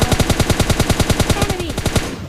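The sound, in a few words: gunfire in the video game PUBG Lite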